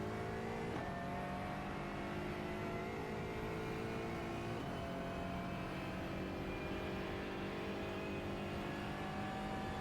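An Aston Martin GT4 engine in the iRacing game revs and accelerates hard through its gears at the Mosport circuit, a loud, sustained rising drone with pitch climbing, a shift dip near the start and another midway, with no talking.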